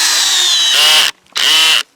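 A cordless power drill boring a tap hole into a maple tree whines loudly and close, running in two long bursts with a brief pause between them.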